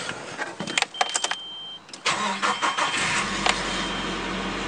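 A car's engine cold-starts, its starter briefly cranking before catching and settling into a steady, loud idle close by; the car has a five-speed manual.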